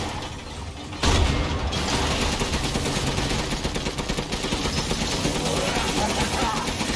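Sustained gunfire aimed at Heisenberg in Resident Evil Village, a loud continuous stream of rapid shots and mechanical clatter that starts abruptly after a quieter second and keeps going.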